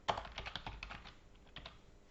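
Typing on a computer keyboard while entering a transaction description in accounting software, a quick run of close, light key clicks that bunch together and then thin out into a few scattered taps.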